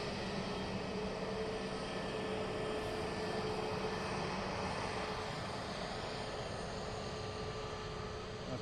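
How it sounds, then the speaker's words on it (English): Jet airliner at Dublin Airport producing a steady, broad roar that holds for several seconds, fairly loud and continuous with no voices. "The next aircraft is EIGPN."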